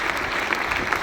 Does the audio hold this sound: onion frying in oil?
no